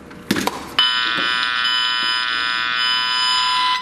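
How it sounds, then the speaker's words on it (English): A loud, steady electronic beep tone from a wire tracer receiver in tone mode starts abruptly after a couple of brief clicks and holds continuously at a high pitch until the end. "You can hear there's a loud beep."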